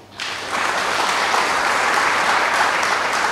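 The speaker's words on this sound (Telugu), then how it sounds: "ప్రసాద్ అని క్లాప్స్ కొట్టండి" A church congregation claps together for a man named Prasad, a dense, steady wash of applause that starts abruptly and holds at full strength without pause.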